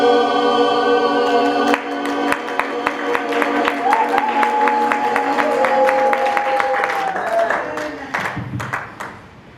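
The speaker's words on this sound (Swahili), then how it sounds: "Makofi kwa kwaya yetu." A church congregation claps for its choir, with sharp, steady rhythmic claps over sustained singing or instrumental tones that fade toward the end.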